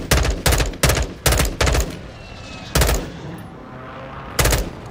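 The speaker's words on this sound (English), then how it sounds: "I hear gunshots coming from in there" Gunfire in the Call of Duty Warzone video game: a rapid series of loud, close shots in quick bursts, then a pause and a couple more single heavy shots against a busy background.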